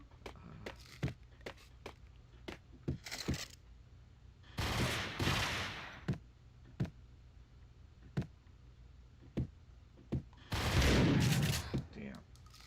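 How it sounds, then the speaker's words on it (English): Gunfight in the Max Payne video game: scattered sharp single gunshots with short bursts of rapid fire and a couple of longer roaring blasts, loud and punchy over a quiet background. "Who goes head on into a gunfight with grenades?"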